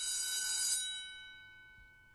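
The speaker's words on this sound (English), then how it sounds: "Does that sound like the bell in your school that tells you school's starting?" A recorded bell rings steadily with a bright, metallic tone for about a second, then decays over the remaining second, sounding like a school bell played back from a recording at moderate volume with no voices.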